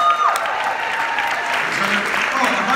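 A live audience applauds two performers, Josh and Danny, with steady, close, full clapping throughout, and a voice speaks over it.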